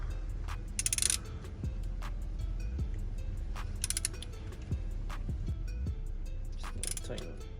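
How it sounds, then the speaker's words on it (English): Torque wrench tightening wheel bolts on a Chevy Silverado 5.3, giving soft repeated ratcheting clicks and a few metallic clacks over a steady low hum, with a quiet mechanical creak between them. "we'll go ahead and torque those to 26 foot-pounds"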